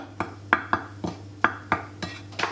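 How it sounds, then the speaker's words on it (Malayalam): A spoon stirs chicken wing marinade with garlic and salt in a bowl, seven or eight sharp clinks against the bowl in a quick, uneven rhythm, close and clear, with no talking. "ഒരല്പം സാൾട്ട് ഇത്രയും ഇട്ട ശേഷം നമുക്കിത് ശരിക്കൊന്ന് ഇളക്കാം"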